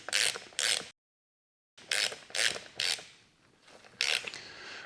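A wrench tightens the cartridge rod on a Beta Sachs open cartridge fork during a lower fork tube replacement, giving bursts of metallic ratcheting clicks in two groups separated by a brief silence, close and fairly loud with no talk.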